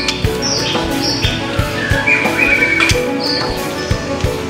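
Bright, varied birdsong with rising whistles and chirps from a white-rumped shama, close and loud, over a busy background of tapping and rustling.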